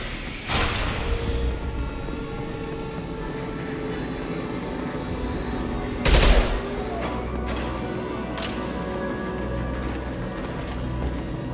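Gunfire and explosions in Mass Effect 2 as fuel tanks are shot, with a low rumbling background broken by a sharp loud crack and burst near the middle and another impact later.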